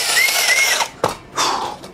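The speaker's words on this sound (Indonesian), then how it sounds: "Bor cordless sekecil ini modelnya compact ya." A DongCheng DCJZ2060i compact cordless hammer drill bores a deep hole, two loud bursts of whirring motor separated by a sharp clunk and brief pause, close and alone.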